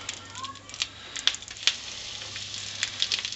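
Butter sizzles in a frying pan over medium heat, ready for fish fillets: a steady close crackle with sharp pops and spits scattered throughout, no one speaking over it.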